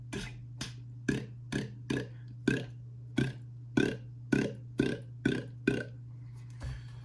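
A beatboxer imitates a dry kick drum with a dozen short, punchy mouth thumps in a steady rhythm, close and fairly quiet over a low hum.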